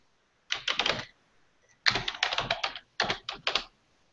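Someone types a password on a computer keyboard: three quick clusters of crisp, close keystrokes with short pauses between them, no voices.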